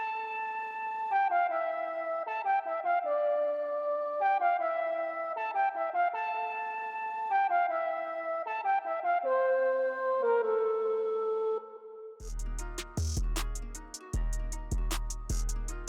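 A soft, airy flute melody repeats in short phrases, washed in echo and reverb, before a sudden burst of bright, percussive sounds takes over near the end.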